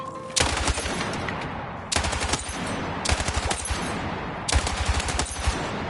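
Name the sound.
light machine gun firing in the video game Battlefield 6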